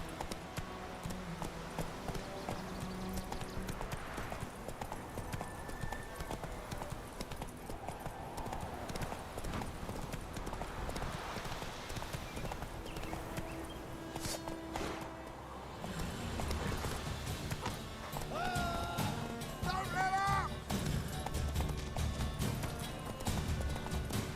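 Roach, Geralt's horse in The Witcher 3, galloping with a steady, fast clip-clop of hooves throughout, under game music and ambient sound, growing heavier in the later part.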